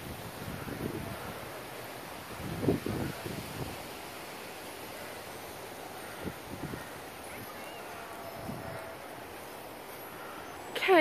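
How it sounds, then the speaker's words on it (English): Outdoor wind rushes against the microphone as a steady broadband hiss, broken by a few low gusts and buffets, moderately faint throughout. "Can you hear the wind?"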